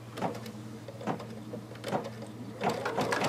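Embroidery machine stitching a ribbon casing with a bean stitch, a rhythmic mechanical whirring and clatter repeating in short pulses, close and steady.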